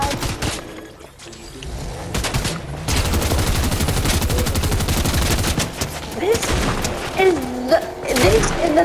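A turret in the video game Fortnite fires sustained rapid bursts of automatic gunfire, loud and dense through the middle, with thumps and game effects around it and voices talking faintly underneath.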